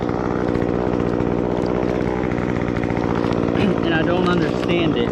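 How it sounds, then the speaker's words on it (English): Chainsaw revving at a high idle while felling skinny pine trees, a steady buzzing engine drone held constant and fairly close, with a voice talking over it. "And it will cause the saw to high rev"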